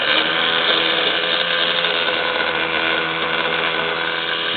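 Rebuilt motor of a restored R-C Craft wooden model boat running steadily, a dense continuous whirring drone close by and fairly loud, with no talk.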